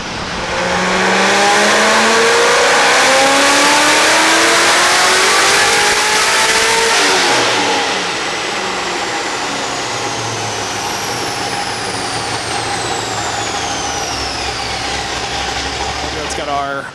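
Supercharged C6 Corvette Z06 with an LME-built engine and a heads and cam package, revving hard and loud close by for several seconds, then settling into a steady, lower engine drone with a rising supercharger whine.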